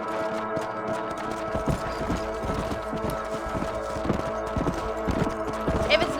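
Horse hooves clip-clop in a Red Dead Redemption game scene on a ranch, a loud, regular trotting rhythm of sharp hoof strikes that continues throughout, with a voice speaking at times over it.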